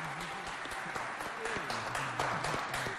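An audience applauds at a school quiz show contest between two high schools, broad steady clapping spread through the room, with a voice talking over it and some crowd noise underneath.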